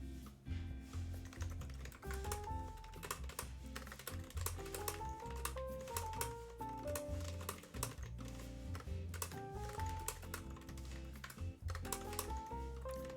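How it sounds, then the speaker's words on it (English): Steady, rapid clicking of computer keyboard keys being typed on, close and fairly quiet, with a low background hum and no talking. "Listen to these keys real quick. They're not like perfect, but they should sound different."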